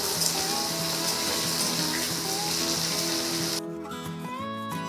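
Eggplant pieces fry in a pan while radish greens cook, a dense close sizzle that drops off sharply near the end, leaving quieter background sounds.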